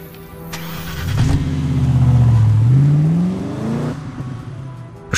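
A car in James Bond 007 Blood Stone, during a mission in Monaco, drives off with a close engine rev that rises in pitch, holds, and climbs again as it accelerates away, with no talk over it.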